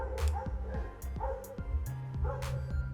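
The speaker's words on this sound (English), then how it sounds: "Those are not my dogs." Several dogs bark and yip outside through an open window in a steady run of sharp, repeated barks, fairly close.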